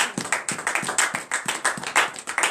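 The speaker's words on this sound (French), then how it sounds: "Donnez l'acclamation à sa parole." Congregation clapping during a morning prayer service in Bénin, a short burst of sharp, rhythmic claps close by, roughly evenly spaced and briefly sustained.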